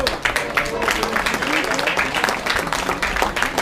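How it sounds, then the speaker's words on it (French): Applause from an audience after an acrobatic basketball show, heard as lively, uneven clapping with sharp claps and crowd voices mixed in, close and fairly loud throughout. "vous pouvez les applaudir"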